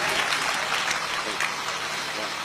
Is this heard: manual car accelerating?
no